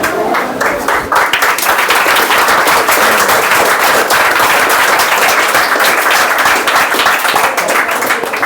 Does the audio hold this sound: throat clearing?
no